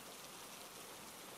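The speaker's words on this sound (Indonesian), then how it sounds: "selain suara tetesan hujan yang semakin lebat" Heavy rain falls in a steady, even hiss of droplets, dense and unbroken, with no voices.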